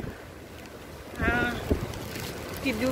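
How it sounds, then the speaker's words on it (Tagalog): Strong storm wind buffets the microphone with steady rumbling gusts, rising in a louder burst midway, while a voice speaks over it during an outdoor walk in a typhoon. "Malakas ng hangin, my goodness"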